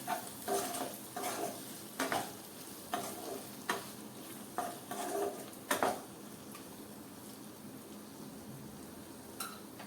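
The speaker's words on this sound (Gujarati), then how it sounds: "મીઠું એડ કર્યા પછી આપણે ફરીથી મિક્સ કરીએ" Spiced potatoes being stirred in a pan over low heat after salt goes in: repeated scraping spoon strokes in a rhythmic series over a quiet sizzle, then fading to a soft hiss with faint birdsong nearby.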